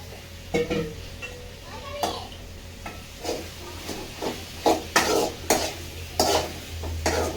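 Chopped vegetables tipped into a pan of sautéed onion and tomato and stirred, with irregular scraping strokes and soft sizzling close by, plus a steady low hum underneath.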